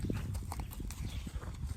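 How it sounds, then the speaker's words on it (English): Horse hooves clopping around a single pillar while being worked in short turns left and right, soft irregular footfalls close by over a quiet background. "what I'm looking for is that little horse to go around there soft, quiet, and relaxed"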